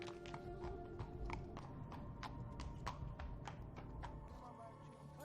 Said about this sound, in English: Most people use donkeys instead of cars.